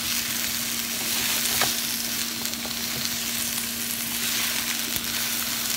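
Summer vegetables sauté in a hot pan with a steady, close sizzle and frying hiss throughout, with occasional clicks and scrapes as the food is stirred and kept moving.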